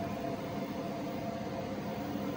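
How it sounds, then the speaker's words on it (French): A microwave oven running, powered from a battery setup: a steady, close, even hum and whirr with a broadband noise floor that holds constant and unbroken throughout. "je vais mettre le micro-ondes. J'ai le micro-ondes"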